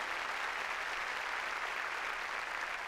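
Steady, dense clapping from a church congregation honoring the Lord during a Spanish-language service, a continuous wash of applause with no pauses and no talk over it.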